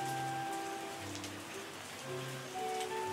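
Steady rain hisses across a surface in the winemaking tycoon game Terroir, a constant soft patter with faint musical tones drifting over it.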